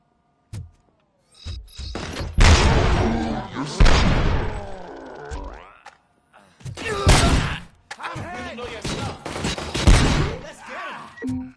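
Gunfire bursts in RoboCop Rogue City, two loud stretches of rapid shots and impacts separated by short silences, with a voice heard between them.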